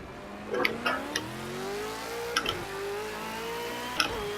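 A V8 Supercar in Project CARS 2 at Long Beach revs up through the gears, its engine tone climbing steadily with brief dips and clicks at each upshift, loud and close with no talk.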